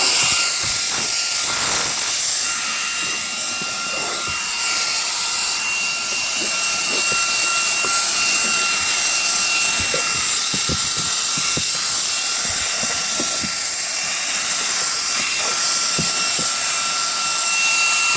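A mini handheld cordless Reikiya vacuum cleaner runs inside a car with a steady high-pitched whine and airy rush, loud and close, with small bumps and scrapes from the nozzle moving over surfaces.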